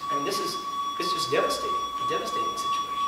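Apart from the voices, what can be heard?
fire alarm going off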